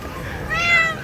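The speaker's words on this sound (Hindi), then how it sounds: "बच्चे बाहर बिल्ली लेके बैठे हुए, छोटी सी मानो" A small cat meows once, a short rising-falling high call outdoors near children, moderately close and clear over faint background noise.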